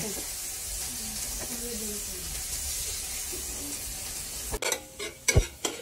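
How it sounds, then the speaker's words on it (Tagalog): Pork ribs sizzling in hot oil with a continuous frying hiss, then several sharp clattering knocks of a utensil near the end. "Naprito na po lahat yung pork ribs."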